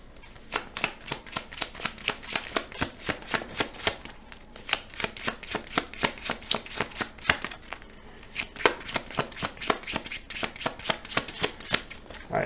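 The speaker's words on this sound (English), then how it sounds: "Alright, so the Hydra cards are shuffled into there." Playing cards for the Marvel Champions card game are shuffled up close: rapid rhythmic riffling bursts, each a quick flutter of snapping cards, repeating steadily with short pauses between runs.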